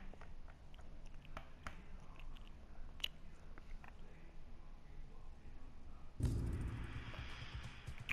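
Wet chewing of two pieces in the mouth, close and faint with soft irregular smacks, then a louder rustle near the end.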